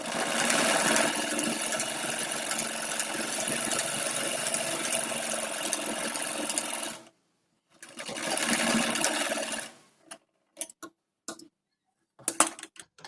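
Sewing machine stitching a kurti seam up to the hip mark, a fast steady mechanical whir running for several seconds, a short pause, another burst, then scattered clicks as the fabric is adjusted.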